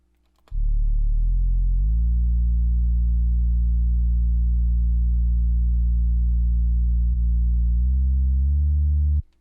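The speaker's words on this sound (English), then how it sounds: "Then I add a sub bass." A deep, clean sub bass tone holds steadily for several seconds, shifting pitch a couple of times, loud and smooth with no other sounds.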